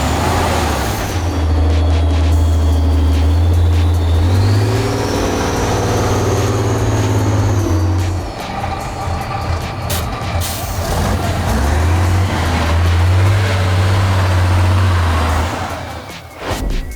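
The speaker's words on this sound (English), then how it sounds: "Where other vehicles would sink, the Ural just keeps on rolling." Ural off-road truck driving over rough terrain, its heavy diesel engine droning loud and close with steady low rumble, swelling and easing as it rolls on, no talk.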